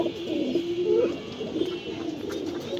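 Pigeons cooing at a pigeon farm in Mirpur 13, Dhaka: soft, rounded coos repeat close by, one swelling louder near the middle, over a steady low murmur of birds and room noise, with no talking.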